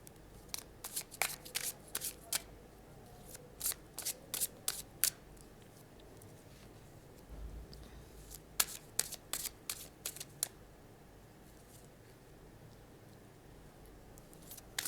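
Tarot cards are shuffled by hand in quick, crisp riffling bursts that come in irregular clusters with quiet gaps between them, close and with no one talking.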